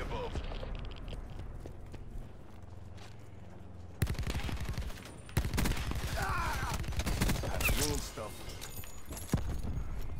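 Gunfire in Call of Duty Black Ops 4, bursts of rapid shots and clatter over game sound, busier after the first few seconds, with a person talking throughout.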